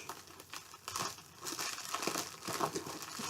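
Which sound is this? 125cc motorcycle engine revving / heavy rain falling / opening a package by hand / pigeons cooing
opening a package by hand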